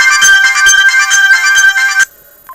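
A bright electronic ringtone from a Mobiho Essentiel Le Classic Plus mobile phone plays a repeating melodic pattern for about two seconds, loud and close, then cuts off abruptly.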